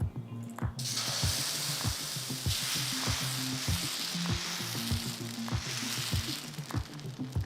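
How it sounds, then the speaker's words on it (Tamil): A ladle of set dosa batter is poured onto a hot griddle and spread, giving a loud, continuous hiss that swells and fades, with a low rhythmic rumbling thud pattern running underneath. "ஜஸ்ட்டு ஒரு கரண்டி மாவு எடுத்து ஊற்றிட்டு லேசாக அதை ஸ்ப்ரெட் பண்ணுங்கள்"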